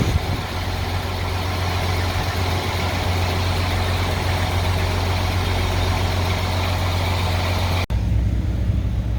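A stuck pickup truck's engine idles with a steady, loud low-pitched drone and constant rumble, briefly cutting out near the end before continuing, with no talking.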